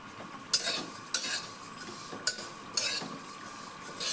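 Cumin seeds gently heating in a pan, stirred with a metal spoon that clinks and scrapes against it about five times at uneven intervals over a soft background sizzle, close and without talk.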